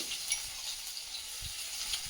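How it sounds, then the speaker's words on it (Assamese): Onion, ginger and garlic frying in a pan for a dry potato and banana-flower dish, a steady close hiss of sizzling oil with faint stirring scrapes and no talking. "অকণমান পিঁয়াজো ভাজি দিছোঁ, আৰু পিঁয়াজখিনি ভজা হোৱাত দিছোঁ ইয়াতে অকণমান আদা নহৰু"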